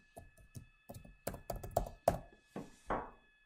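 Computer keyboard keys tapped one by one while entering a map label, close dull clicks in an irregular rhythm, a few louder thunks near the end, no talking.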